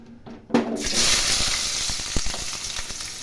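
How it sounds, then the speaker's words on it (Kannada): Mustard seeds hit hot oil in a pan and break into a loud, steady sizzle right up close, with scattered pops crackling through it. "ಒಂದು ಬಾಣಲೆ ಇಟ್ಟು ಅದಕ್ಕೆ ಆಯಿಲ್ ಹಾಕಿ ಸಾಸಿವೆ ಕಾಳು ಹಾಕೋತೀನಿ"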